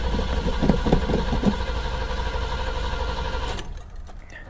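A used car at a Copart salvage auction lot cranks over with a few rhythmic starter pulses, then catches and settles into a steady nearby idle before cutting off near the end.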